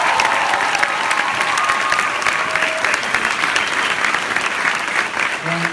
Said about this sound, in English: So let's first of all give you a round of applause for that.